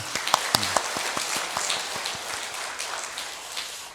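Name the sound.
congregation applause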